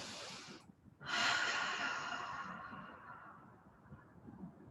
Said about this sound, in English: maybe it's your ujjayi breath, where you're feeling the vibrations in the back of the throat